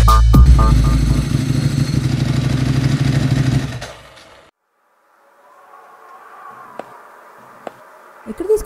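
A motorcycle is ridden with a passenger aboard, its engine buzzing loud and close with revving for several seconds, then fading away and leaving quiet outdoor ambience with a few faint clicks.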